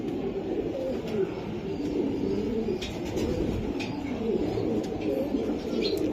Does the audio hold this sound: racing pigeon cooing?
yes